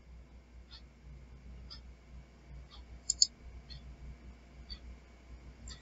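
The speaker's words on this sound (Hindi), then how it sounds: "मुझे डेस्कटॉप पे सेव करना है इसलिए मैं यहाँ क्लिक करता हूँ" Computer mouse clicking on a desktop while an Excel estimate is saved as a PDF: a steady series of about eight faint, sharp clicks spaced roughly a second apart over a low hum, with no one talking.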